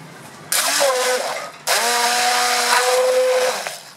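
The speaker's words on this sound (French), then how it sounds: "Tu vas te servir maintenant d'un mixeur plongeur et donner 2-3 épis." Immersion blender mixing crêpe batter of beer, oil and eggs in a stainless steel container: two loud steady whirring bursts, the second longer, with no talk.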